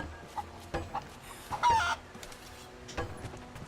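Chickens cluck in Rise of the Tomb Raider: a handful of short, sharp clucks spaced irregularly, with one louder squawking burst in the middle, set against quiet game ambience.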